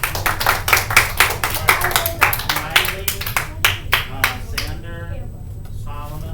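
A class of students claps together after a threading lesson, a dense burst of clapping that thins out and fades toward the end, with voices talking over it.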